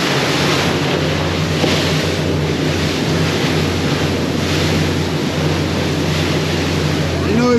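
Rough open sea during a boat crossing to Bimini, with a constant loud wash of waves and spray alongside a droning boat engine and wind buffeting the microphone.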